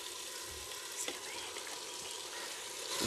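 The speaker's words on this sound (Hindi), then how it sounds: "इसे थोड़ी देर फ्राई कर लेंगे" Chicken paws fry in a pan with ground chilli, crushed coriander, black pepper, turmeric and salt, producing a continuous close, moderately loud sizzle with light crackles and occasional stirring scrapes.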